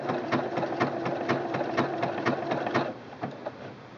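A Singer Quantum Stylist 9960 sewing machine stitches on a button, giving fast, even mechanical ticks close by for about three seconds before slowing to a few fainter clicks, with no voices.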